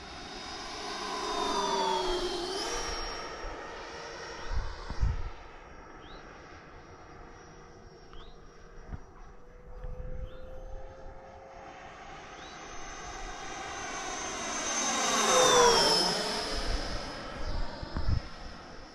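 An Avanti S v2 RC ducted-fan jet on a 6S 10,000 mAh battery makes fly-by passes, its whining turbine-like roar rising and falling with Doppler sweeps as it approaches and recedes, loud at each pass and fainter between.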